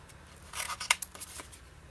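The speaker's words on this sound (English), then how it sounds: "Now I just cut the corners." Scissors snip the corners of scrapbooking paper in a quick cluster of close, crisp cuts lasting about a second.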